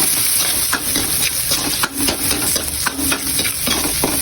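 Chicken sizzles steadily in hot oil while being stirred, a loud continuous frying hiss broken by scraping stir strokes at a regular pace.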